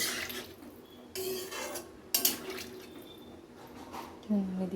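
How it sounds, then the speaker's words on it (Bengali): Water poured into a pot of vegetable curry on a gas stove, then stirred with a metal spatula, giving a running splash followed by scraping and knocks against the pot, close and fairly loud. "আর একটুখানি দিয়ে দিলাম জলটা, এই যে দিয়ে একটু খুন্তি দিয়ে নাড়িয়ে দেবো ভালো করে।"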